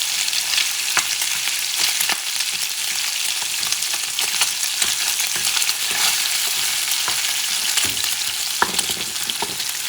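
Cod omelette mixture sizzles steadily in oil in a pan while it is stirred and broken apart, a loud continuous frying hiss with scraping and clicks from the utensil, no talking.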